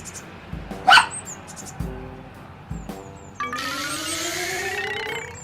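A toy puppy in a children's toy setting gives a few short, separated barks, then a longer whining yip, loud and close, with soft speech in the background.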